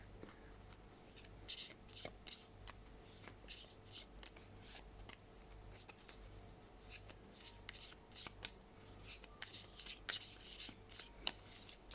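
A deck of cards being shuffled up close, with repeated crisp riffling bursts and flicks spread across the whole stretch, fairly quiet against a low steady hum, no talking.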